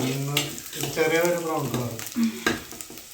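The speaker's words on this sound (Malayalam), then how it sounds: "ഉള്ളി വഴന്നെടുക്കണ്ടേ, ഇനി വഴന്ന് വരണ്ടേ" Onions sautéing in a pan as the base for a home-cooked mackerel curry, a steady close sizzle and stir running throughout, with a voice sounding over the frying.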